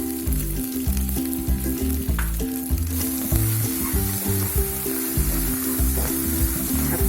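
Red amaranth greens stirred slowly in a hot pan give a steady close sizzle with occasional stirring scrapes, set over a low, rhythmic tonal background, with no voices.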